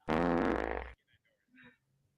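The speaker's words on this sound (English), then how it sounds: "Your Bob makes fart sound effects?" A loud, buzzy fart sound effect holds for about a second, then cuts off abruptly, leaving a few faint, scattered noises.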